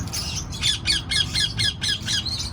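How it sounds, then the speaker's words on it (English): A Reeves pheasant at a farm landmark in Kern County gives a series of about eight loud, rhythmic squawking calls at close range, evenly spaced over a low background hum, with no talking. "Now that is a Reeves pheasant."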